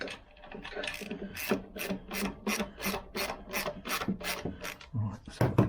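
Bolts on a Lambretta GP scooter being tightened with a ratchet, giving a rapid run of close, sharp rasping clicks in steady bursts with no talking.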